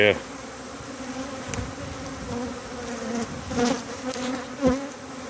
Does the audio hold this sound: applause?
no